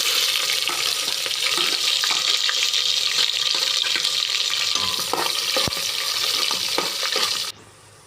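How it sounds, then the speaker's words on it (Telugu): Onions and green chilies fry in a pan with a steady, loud broadband sizzle and occasional stirring scrapes, cutting off abruptly near the end with no talking. "ఇప్పుడు ఆనియన్స్, పచ్చిమిరకాయలు వేసి వేపుకున్నాం ఫ్రెండ్స్."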